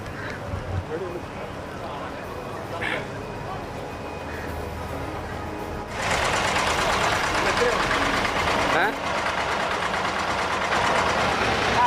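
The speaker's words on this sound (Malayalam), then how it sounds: "അപ്പം നമ്മളെ ബോട്ട് എടുത്ത് തുടങ്ങി കേട്ടോ." A Dubai ferry's boat engine starts and runs, a low steady drone that swells noticeably louder and broader about halfway through and then holds, with faint background voices early on.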